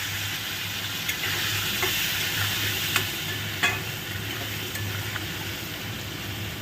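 Diced potatoes fry in oil with turmeric and salt over a low flame, sizzling steadily up close with a low hum beneath and a few faint utensil taps, with no speech.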